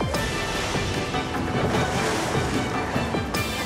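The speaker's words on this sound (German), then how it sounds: "Unser Boot gibt Vollgas." Loud, steady roar of a boat engine at full throttle with rushing water and waves slapping, continuous and close throughout.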